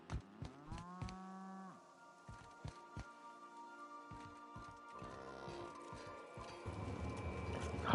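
Cows moo inside a spaceship kitchen in the video game The Outer Worlds, two or three drawn-out low bellows up close among sharp clopping hoof knocks and clanks, over a soft ambient hum that swells toward the end.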